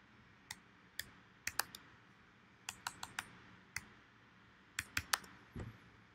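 A value is typed on a computer keyboard in a few sparse, irregular clusters of crisp key clicks, close but quiet, with no talking.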